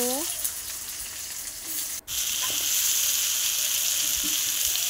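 Onions fry in a hot pan with a bright, continuous sizzle that runs throughout, broken by a brief clatter and a few faint stirring sounds.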